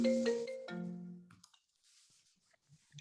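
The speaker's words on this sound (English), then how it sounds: "Somebody's ringing." A phone ringtone sounds during a planning and zoning commission meeting, a loud melodic burst of two tones that stops abruptly, followed by faint room noise and a few soft clicks.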